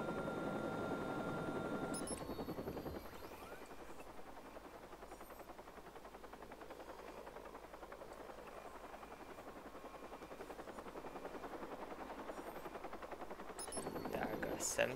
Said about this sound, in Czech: zkusím na vrtulník se hacknout